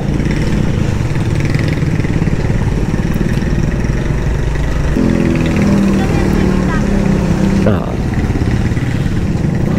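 A motorcycle engine runs close by beside deep, brackish water, chugging steadily, with a harder rising drone in the middle and a brief drop near the end; someone talks over it.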